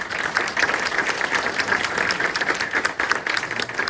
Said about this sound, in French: Merci d'applaudir à nos intervenants.